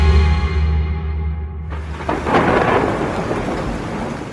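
Steady, loud rain with rumbling thunder in a monsoon night scene of a Bengali radio drama, a sustained wash of downpour throughout with a deep roll swelling in the second half, no voices.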